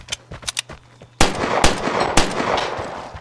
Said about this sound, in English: Someone's shooting, bro, run!